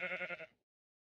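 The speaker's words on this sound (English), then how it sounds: "I can't believe I found a pink sheep!" A pink sheep in Minecraft gives one short wavering bleat, close and clear, that cuts off abruptly into silence.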